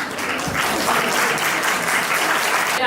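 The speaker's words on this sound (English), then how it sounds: "Please welcome her with a huge round of applause" An audience at a clinical pharmacy symposium applauds to welcome a speaker, loud continuous clapping with a slight swell midway, ending abruptly.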